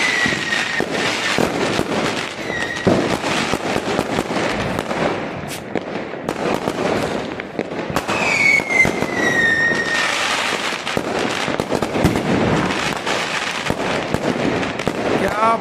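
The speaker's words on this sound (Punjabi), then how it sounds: "ਆਹ ਦੇਖੋ ਜੀ ਚੱਲ ਰਹੇ ਪਟਾਕੇ ਅੱਜ ਦੀਵਾਲੀ ਦੇ ਮੌਕੇ 'ਤੇ" Diwali and Bandi Chhor Divas firecrackers and fireworks go off in dense, rapid bursts of crackling pops and whistles, continuous and fairly close, with voices faintly underneath.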